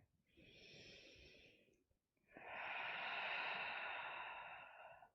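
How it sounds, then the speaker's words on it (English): Two long, deep breaths during a slow, stretchy yoga flow: a shorter breath, a brief pause, then a longer, fuller one, close and airy with no talking. "Really taking those deep drinks of breath in."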